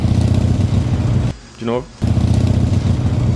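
A motorcycle engine runs loud and steady, a low droning rumble that cuts out briefly while a voice speaks, then resumes.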